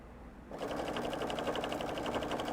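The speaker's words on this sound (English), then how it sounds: "just going to sew along here" A sewing machine stitches a quilt with pre-printed batting, starting after a short pause and then running in a steady, close, rapid mechanical rhythm.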